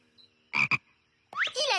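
A cartoon frog gives two quick, throaty croaks close by, followed a moment later by a rising, warbling croak.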